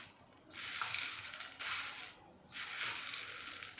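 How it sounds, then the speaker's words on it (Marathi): Puffed wheat chivda tossed with hot oil tempering, three loud dry rustling, crunching sweeps separated by short pauses, close up with no voice. "आता हा तुमच्यासमोर मी हा चिवडा हलवून घेते"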